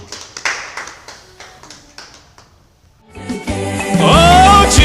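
A church congregation at a Sunday service breaks into rhythmic clapping, a run of sharp claps that pauses briefly before a louder swell of cheering voices and music rises over continued applause.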